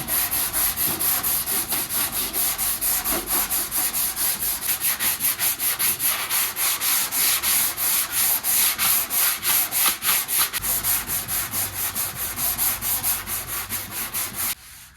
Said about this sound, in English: Let's get some 80 grit and block that filler down.